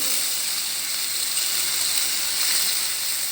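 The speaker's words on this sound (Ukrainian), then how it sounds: "У нас вже розігрілося масличко, закладаємо м'ясні продукти" Meat sizzling in oil heated in a pan, a steady close hiss and crackle running evenly throughout with no pauses.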